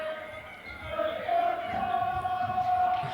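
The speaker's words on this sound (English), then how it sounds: "the SK super fans seem to be the only fans cheering this evening" Home crowd of high school girls' basketball super fans cheering and yelling in a gym, a swelling roar with sustained shouts that grows louder midway and holds.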